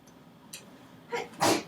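A single close sneeze with a short intake of breath, then a sharp burst at the end, in an otherwise quiet room.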